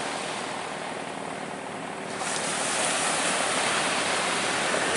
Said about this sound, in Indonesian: Ini kebetulan ombaknya benar-benar bersahabat ini ombaknya